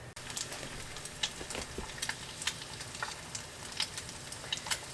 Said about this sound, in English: The pan is hot, so let's go ahead and see how this egg cooks up.